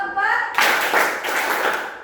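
A short spoken voice, then a group at an education training session bursts into unison clapping: about four sharp collective claps in a steady rhythm, loud and close.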